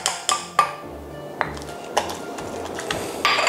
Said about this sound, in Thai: ตำให้เข้ากันก็พอครับเพราะว่ามันละเอียดมาแล้วเนาะ